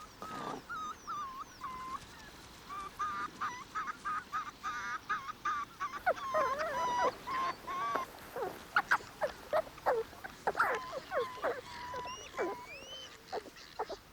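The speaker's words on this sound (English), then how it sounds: "loud growls of disapproval from the vixen drive the dog fox away" A vixen fox in the harsh Russian wilderness gives repeated loud, harsh growling calls at a dog fox, in rapid bursts that build in intensity and continue for several seconds.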